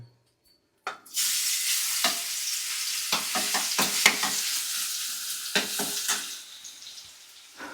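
Ginger and garlic hit hot sesame oil in a village kitchen pan: after a brief quiet moment a loud, continuous sizzle erupts and carries on, broken by repeated scraping stirs of a spoon against the pan.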